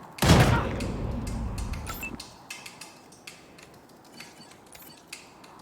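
Wasteland 3 gunfire erupts as a loud burst of shots at the start, then fades into scattered sharp cracks and faint distant pops with no talking.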